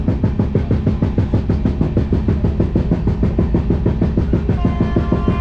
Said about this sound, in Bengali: ট্রেন চলছে তার আওয়াজ